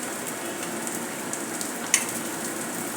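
Appe snacks roasting in an appe pan, giving a soft, steady sizzle and light crackle with one small sharp pop partway through.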